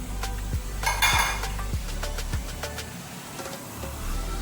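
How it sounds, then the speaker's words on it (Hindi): A metal lid clanks onto a pot of chicken pulao, giving several sharp knocks and a ringing clatter near the start, then a low burbling simmer continues. "देखिए अभी दोबारा इसको हम ढक देंगे ऐसे।"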